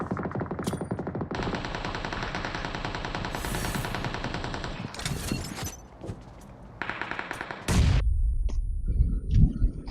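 Vector submachine gun fire in a PUBG-style battle royale game rattles in fast, loud automatic bursts, dense and continuous at first, then broken into shorter volleys mixed with heavier booms and impacts.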